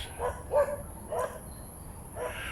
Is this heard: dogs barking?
yes